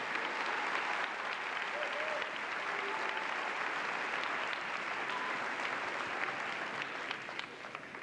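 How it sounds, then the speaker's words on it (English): A school auditorium audience claps for a sixth grade band, dense sustained applause from a sizable crowd that holds steady for several seconds and then begins to thin out. "Let's give them another round of applause."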